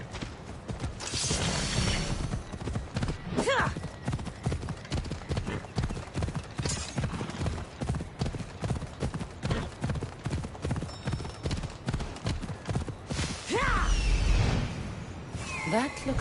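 Horse hooves clip-clopping in a steady, even rhythm in Assassin's Creed Odyssey, a continuous close gait with game ambience and a few brief other sounds mixed in.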